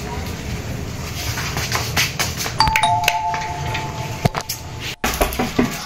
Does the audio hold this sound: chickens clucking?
no